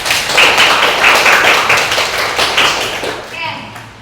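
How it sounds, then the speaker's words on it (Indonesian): Classroom students clap together for a few seconds, a dense, fairly loud patter of hands filling the room, tapering off toward the end as a voice starts up. "tepuk tangan dulu dong"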